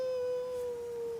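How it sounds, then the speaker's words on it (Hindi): A dog cries with one long, sustained howl held at a steady pitch, loud and close, with no other sound around it. "ये कोई कुत्ता रो रहा है यार।"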